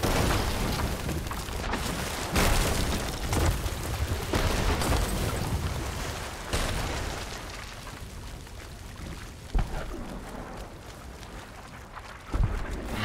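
Dense, roaring Sea of Thieves ship-cannon combat noise with repeated heavy booms and blasts, a few sharp explosive peaks standing out over a continuous rumbling wash.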